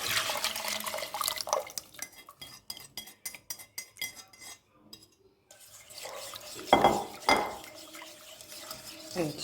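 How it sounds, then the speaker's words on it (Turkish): A whisk beating a tomato paste mixture in a bowl, rapid rhythmic clinking and scraping of metal against the dish in a fast burst, with kitchen clatter and a voice talking before and after. "Şöyle çırpıcıyla karıştıracağım."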